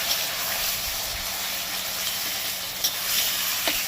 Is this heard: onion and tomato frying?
yes